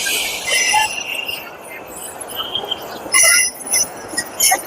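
A train at Sheoraphuli station on the Tarakeshwar line during the Shravani fair rumbles and clanks, with bursts of metallic wheel squeal and clinks amid a busy platform crowd murmuring in the background.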